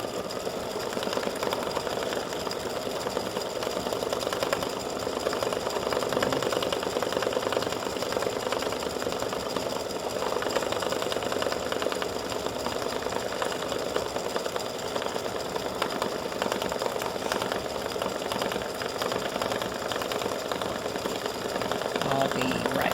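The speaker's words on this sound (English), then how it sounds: "Very quick stitching on this one." An embroidery machine stitches a design into greeting card stock, a steady, fast mechanical buzz and rattle that runs unbroken and fairly loud from start to finish.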